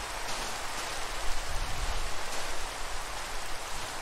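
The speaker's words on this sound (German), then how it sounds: "Ganz schön nervig, dass das hier jetzt so regnet." Steady broadband hiss of rain falling in the video game Minecraft, a constant wash of patter with no voices, holding even throughout.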